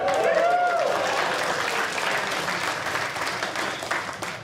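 Audience applause at a stand-up comedy show, loud and steady clapping sustained throughout, with some crowd voices mixed in near the start.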